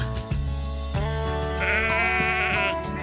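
A farmstead goat bleating close by, a few wavering nasal cries with a rising, quavering tone repeated over about three seconds, alone without talk.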